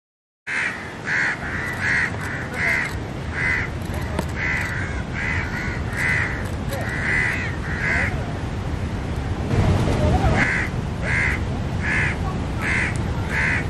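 Crows caw repeatedly outdoors at a remote-control alligator prank site, loud rhythmic calls in bursts over steady background noise, with a short pause midway before the cawing resumes.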